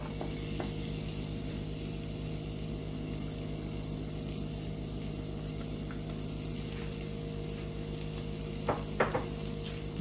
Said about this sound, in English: I'm gonna allow this to fry until it gets a little brown.